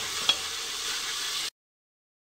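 Onion, garlic, coriander, kasuri methi and fenugreek frying in a pan for rajma masala, a steady broadband sizzle with one brief stir clink, lasting about a second and a half before cutting to silence.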